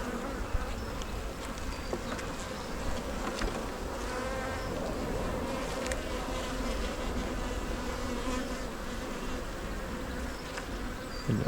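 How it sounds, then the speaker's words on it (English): Honey bees buzz steadily at an open hive during an inspection, a dense continuous hum close to the ear with no talking. "They look like good bees."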